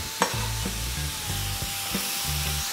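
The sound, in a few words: brown mushrooms stirred and frying in a pan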